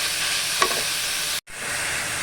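Grated beetroot and garlic fry in a pan while being stirred, a close continuous sizzle with a brief scrape of the spatula and a short break near the end.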